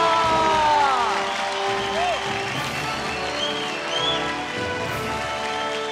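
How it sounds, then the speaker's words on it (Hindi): An audience applauds at a televised singing competition finale during an award moment, a dense patter of clapping under bright music, fading slightly toward the end. "तालियां।"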